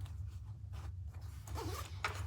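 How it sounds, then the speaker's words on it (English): Zipper on a handmade crossbody bag's top closure pulled in short raspy runs, close and fairly quiet over a low steady hum. "then you have a top zipper closure"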